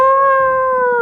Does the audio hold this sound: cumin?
no